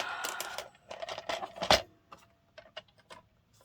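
Scissors snip through paper scraps cut together in a stack, a series of crisp, close cuts in uneven bursts with short pauses between them and no talking.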